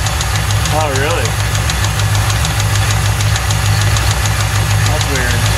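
A Ford 4.6 DOHC Cobra V8 that was found with no oil idles loudly nearby with a steady, harsh knocking throughout, while a few brief voices come through over it.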